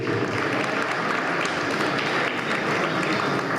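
A theatre audience applauds a singer at a WWF 10th anniversary event in St. John's, the clapping steady, dense and sustained throughout with no pauses.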